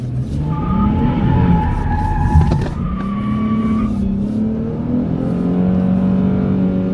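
A 2019 Dodge Challenger accelerates hard, its engine roaring loud and close as the revs rise in long sweeps, dropping with a gear change and then climbing steadily again.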